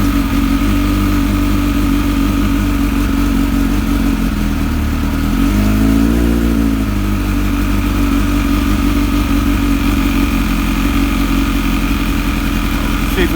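A Kawasaki ZX7R motorcycle engine runs on choke while warming up, a loud, close, steady idle with one brief rise and fall in revs midway, and a voice faintly talking under it.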